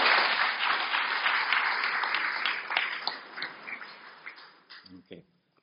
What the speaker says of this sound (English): Round of applause for the city of Coquitlam.